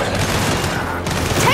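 Turret gunfire in the Gears 5 video game, a loud, continuous rattle of rapid shots that drowns out the game's background noise.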